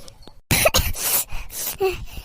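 A person coughs repeatedly in rough, hacking bursts, close and fairly loud, with throat-clearing sounds between the coughs.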